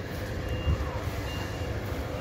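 A truck maneuvers at a loading site in Maringá with no container dock, its reversing beeps faint and repeating over a steady engine idle and low rumble.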